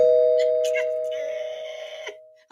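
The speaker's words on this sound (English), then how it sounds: "Let me ring the doorbell for them." Doorbell chime with a sustained ringing tone that gradually decays, over which a voice speaks briefly near the end.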